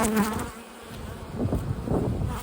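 Honey bees in a late-season bulk split hive buzz steadily while frames are pulled during an inspection, a close, continuous drone with shifting intensity and no voices.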